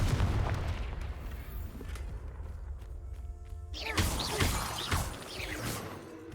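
The Confringo fire spell goes off in Hogwarts Legacy as a series of booming, crackling blasts and thuds. The bursts are loud and close, with a faint voice under them.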